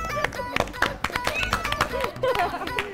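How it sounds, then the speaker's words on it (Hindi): Studio audience clapping for Kashaf, the champion of a Pakistani game show, with sharp, uneven claps and loud voices mixed in throughout. "आप लोग अभी भी तालियां बजा रहे निकलने के बाद"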